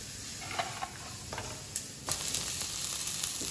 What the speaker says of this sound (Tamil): இப்போ இந்த வெங்காயம் வந்து ஓரளவு பச்சை வாசனை போய் கோல்டன் ப்ரௌன் கலர் ஆகி வர வரைக்கும் நல்லா வந்து வதக்கி விட்டுடலாம்